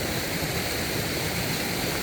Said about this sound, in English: this filled up the parking lot waterfall and now we have water